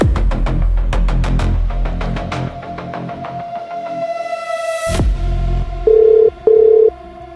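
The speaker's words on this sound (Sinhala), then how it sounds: "ඉන්නකෝ මං නිමේෂ්ට කෝල් එකක් ගන්න." A phone call is dialled: a run of short electronic tones leads into two clear ringing beeps near the end, loud and close with no talking.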